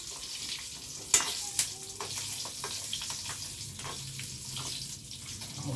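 Green chilies sizzle and crackle in hot oil with mustard seeds for a Gujarati stuffed chili curry, a steady frying hiss with a couple of sharp pops near the start.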